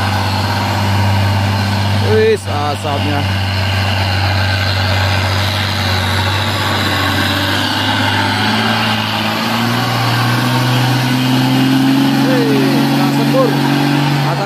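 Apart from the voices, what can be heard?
orange truck engine straining on a hill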